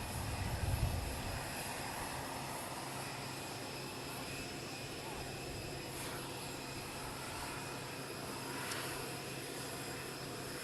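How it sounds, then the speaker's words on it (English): Air Force plane landing at Palm Beach, a steady, distant roar of aircraft engines lasting throughout, with a soft thump near the start and no talk over it. "another Air Force plane landed"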